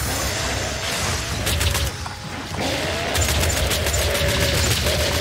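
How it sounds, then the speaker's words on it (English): Rapid micro missile fire from a weapon in the shooter game Doom, a dense, loud run of overlapping bursts and booms that dips briefly in the middle before resuming steadily. "I love the micro missiles."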